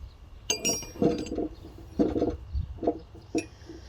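Bonney cold chisels, steel hand tools, clink against each other while being handled: five or six bright, short metallic taps spaced unevenly, heard up close in a quiet room.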